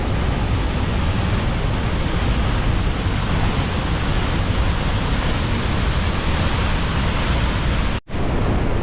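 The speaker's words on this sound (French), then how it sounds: "Excellente cascade" The Cascade de Combe Noire waterfall gives a steady, dense, loud roar of falling water that stays unbroken throughout, with only a brief drop near the end.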